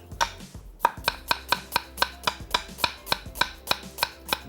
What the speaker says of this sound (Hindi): बारीक स्लाइस कर लेंगे।